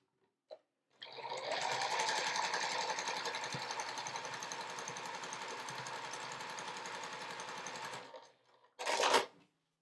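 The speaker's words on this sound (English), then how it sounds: "lay it right sides together, and then sew that 1/4 inch seam" A sewing machine runs steadily for about seven seconds sewing a quarter-inch quilt seam, a close, even mechanical whir, followed by a brief clunk of handling.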